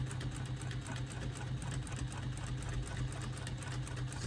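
A sewing machine doing free motion quilting, a steady fast needle chatter with an even mechanical hum, close and continuous with no talking.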